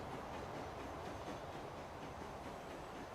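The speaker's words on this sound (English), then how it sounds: "That's a long train." A long freight train pulled by a big locomotive in the video game Transport Fever, rolling along with a dense, continuous rumble and rattle of wagons, steady and fairly loud throughout.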